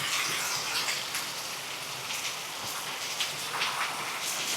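Rain falling outdoors near a waterfall, a steady dense hiss with scattered small drop taps throughout, fairly close and even in level, with no talk.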